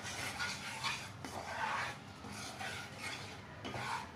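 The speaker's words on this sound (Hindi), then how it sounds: "ये ब्राउन होने तक हमें अभी इसे फ्राई करना है घी में।" Whole wheat flour is stirred and fried in ghee, making a rhythmic, gritty rasping and rubbing as a spoon drags through the thick mixture in repeated strokes, with no speech.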